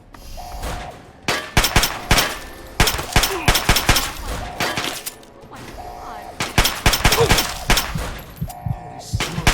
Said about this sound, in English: Who the hell's shooting at me?